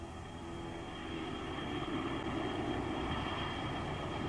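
Steady, loud roar of a MiG-21 jet aircraft's Tumansky engine, a continuous broadband rush that swells slightly after the first second and holds level with no voices.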